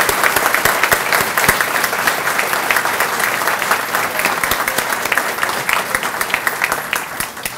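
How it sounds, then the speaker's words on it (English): A crowd gives a big round of applause at a university dental center announcement, loud, sustained clapping with distinct individual claps throughout, steady from start to finish. "please give them a big round of applause"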